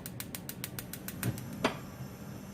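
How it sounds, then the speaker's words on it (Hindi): A gas stove knob clicks and ratchets as it is turned on in a home kitchen, giving a rapid series of short, close ticks followed by a sharper snap. "और मैं फ्लेम करती हूँ ऑन।"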